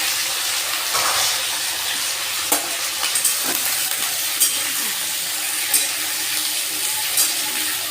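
Mixed winter vegetables stirred and fried in hot oil with five-spice seeds, dry red chillies and bay leaves, giving a steady bright sizzle broken by scattered spatula scrapes and light clinks against the pan, with no voices.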